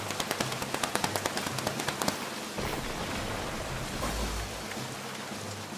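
Preschool children pat their legs to imitate rain, making a quick run of separate pats that blends into a steady, soft, rain-like patter.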